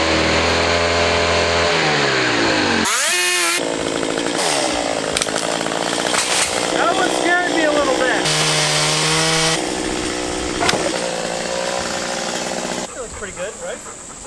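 A chainsaw running loud and close, its engine revving up and down in sustained whining bursts with short pitch shifts.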